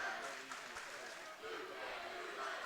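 Forest Park Ranger fans cheer through a basketball gym, a broad, fairly distant roar of the crowd with a commentator talking over it.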